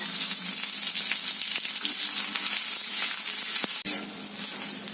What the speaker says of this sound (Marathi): आता त्यामध्ये आपण कांदा घालूया, तो पण चांगला लाल भाजून घ्यायचा आपल्याला